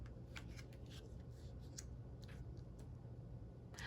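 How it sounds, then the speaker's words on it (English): Tarot cards flipped over one after another on a table, giving several soft, brief papery flicks and slides scattered over a low, steady background hum. "let me turn these 2 cards over"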